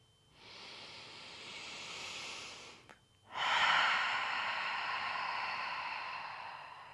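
During a gentle morning yoga flow, a long deep inhale through the nose is followed by a fuller, louder exhale, close and breathy, with no talking.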